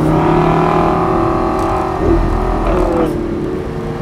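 A Lamborghini engine rumbles and revs up close, a loud sustained drone that swells briefly partway through before easing off slightly.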